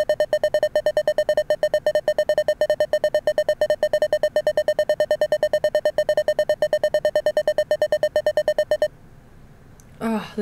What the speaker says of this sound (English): the beeping kind of hurts my ears